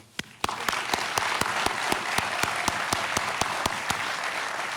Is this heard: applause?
yes